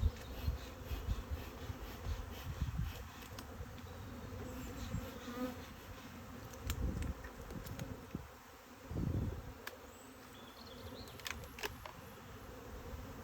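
Honey bees at an opened hive during a spring inspection produce a close, continuous buzzing drone, with occasional louder swells as individual bees pass near and faint clicks of handling in the background.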